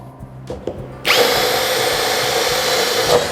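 A PUMPKIN cordless drill, model 50271/XT-10IDBL or INF-13IMDB6/50402, set in second gear, bores into wood. Faint clicks come first, then the motor jumps to a loud, steady high whine that holds to the end.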